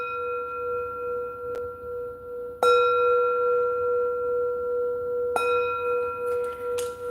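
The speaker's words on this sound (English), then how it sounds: "Oh, and get you a bell." A small hand bell rung for spiritual energy cleansing strikes three times, each clear metallic tone ringing on and decaying slowly before the next strike.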